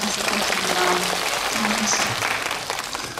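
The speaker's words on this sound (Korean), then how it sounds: "박수" A crowd at a CGV cinema live talk event for the Korean film Illang claps steadily, a full, continuous round of applause with faint voices and scattered cheers mixed in.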